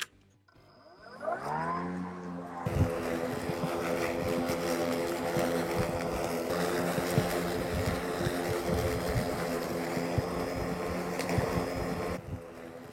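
A GRIN BM46 82V battery lawn mower in eco mode, cutting grass about 10 to 15 cm tall, spins up from silence and then drones steadily with a whirring, buzzing tone that shifts slightly in pitch as it runs.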